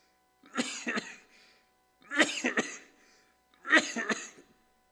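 Three separate coughing fits, each a quick pair of harsh coughs, evenly spaced with silence between, close and moderately loud.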